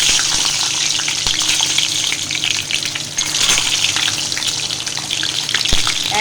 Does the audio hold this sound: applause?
no